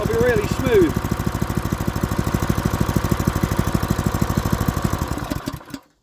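A freshly unboxed Honda GX clone small engine on its first start, running close and loud with a fast, even, thudding firing beat for several seconds before it cuts off, a brief voice over its opening.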